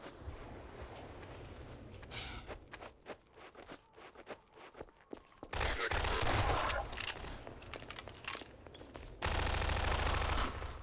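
Enemy soldiers in Half-Life 2: Lost Coast fire bursts of rapid gunfire, with scattered shots, then heavier sustained volleys toward the end.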